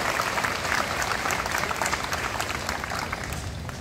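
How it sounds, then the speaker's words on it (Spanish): Steady, full applause from an audience at a school academic ceremony, a dense wash of many hands clapping that holds evenly and then tapers slightly, without talking. "Un fuerte aplauso."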